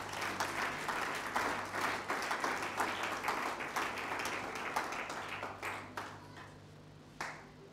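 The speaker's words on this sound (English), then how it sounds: "Nous applaudissons pour le Seigneur." A church congregation applauds for several seconds, a dense wash of clapping that thins toward the end into a few scattered claps, with a low hum underneath.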